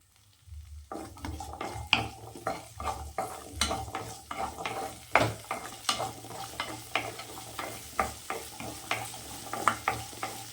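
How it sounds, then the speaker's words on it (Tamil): Small onions sauté in oil in a kadai for a mutton fry with a low, even sizzle. A spoon scrapes and taps the pan in a steady rhythm, close and moderately quiet, and no one speaks. "வெங்காயம் நல்லா வதங்கி வரட்டும்"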